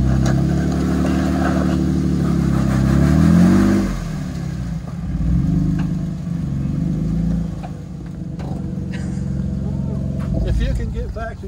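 A car engine drives slowly up while pulling a trailer, its mid-pitched hum swelling and easing as it creeps forward, with a voice guiding the driver over the engine throughout.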